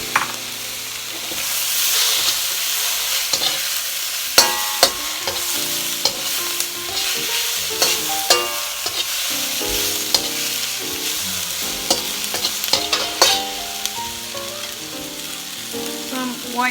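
Shrimp frying in a hot pan while being stirred, a continuous sizzle with frequent clinks and scrapes of the utensil against the pan, close up with no talk.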